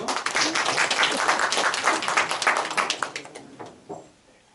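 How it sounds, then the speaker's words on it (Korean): A church congregation claps together to welcome a returning member, dense broadband applause filling the room before thinning and fading out near the end. "다 같이 박수로 환영할까요?"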